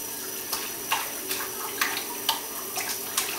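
Water splashes in a bathtub as a child plays, with continuous running water and several small, sharp splashes at irregular intervals, close by and without talking.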